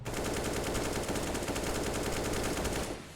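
Sustained automatic AK rifle fire in a video game, a dense unbroken burst of rapid shots lasting about three seconds, loud and close, cutting off sharply at the end.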